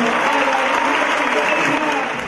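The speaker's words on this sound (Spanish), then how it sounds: "voy a pedir un aplauso grande para esta murga genial" Loud, dense applause from a crowd for a murga band, a continuous close wash of many hands clapping that holds steady throughout.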